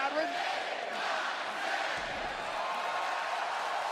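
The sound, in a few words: wrestling arena crowd cheering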